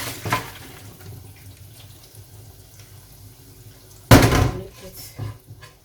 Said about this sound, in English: So I'm going to drain it in this colander or drainer.